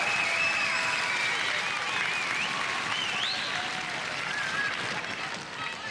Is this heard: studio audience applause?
yes